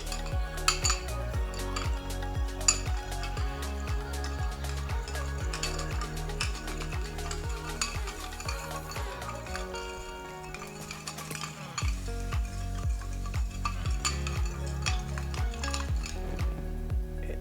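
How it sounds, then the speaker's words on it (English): A spoon stirs ice in an Old Fashioned cocktail glass with steady, rhythmic clinking, close and fairly quiet over a soft background music bed. "Now we're gonna stir."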